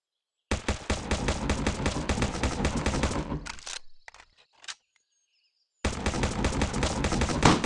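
Rapid automatic gunfire in the Free Fire video game, loud dense bursts of shots for about three seconds, a brief pause with a faint tone, then another sustained loud burst resuming after a silent gap.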